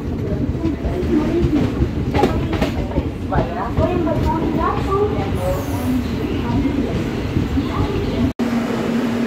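Vande Bharat or express train rolling into Tiruppur station, steady rumble and rail clatter across the platform with people talking and bustling nearby throughout.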